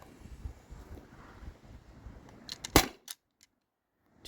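A T4E HDP50 CO2 pistol, fed from a remote line tank, fires a single sharp crack with a short hiss after a stretch of low rustling, then falls silent.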